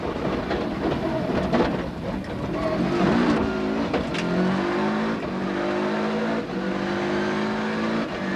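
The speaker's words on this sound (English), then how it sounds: "Kenny McKinstry and Robbie Philpott head down the mountain at high speed on stage 16." A rally car descends a mountain stage at high speed during the 1992 Circuit of Ireland Rally, its engine roaring loud and steady, pitch rising and falling with gear changes, with no talk over it.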